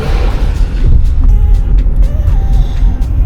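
A Tamil Nadu government bus approaches on a scenic hill road near Ooty, its engine a loud, close, low rumble that rises and holds steady, with faint high tones above.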